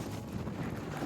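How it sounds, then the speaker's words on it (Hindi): Steady wind roars across the microphone during a bike ride in the Netherlands, a constant, dense rush with no clear speech. "हवा आ रही है बाइक पे"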